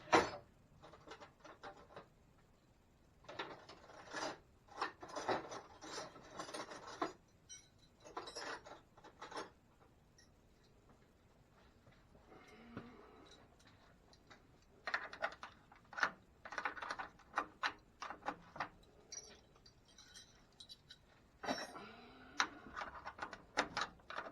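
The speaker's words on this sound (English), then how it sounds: "Give me a minute to dig through my stuff to find the right wrench." Metal tools clink and rattle in irregular bursts while someone rummages for a wrench during a 1984 Mustang power steering pump replacement, with quiet pauses between handfuls.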